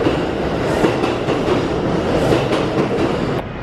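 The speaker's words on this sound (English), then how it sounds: "We also took a subway for the first time." A subway train rides along its rails with a loud, continuous rumble and roar, the rhythmic clatter of wheels over track joints cutting through steadily, heard close from inside the car with no talking.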